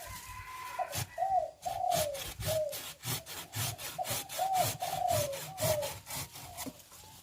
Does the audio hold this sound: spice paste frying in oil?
no